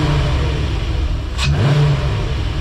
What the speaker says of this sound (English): nothing better than a little late night cruise with some VR6 sounds